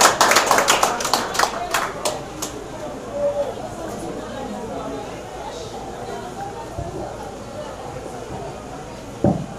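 An audience at the inauguration of a market hall in Tellier breaks into a burst of applause that quickly thins to scattered claps, followed by murmuring crowd chatter in a large room.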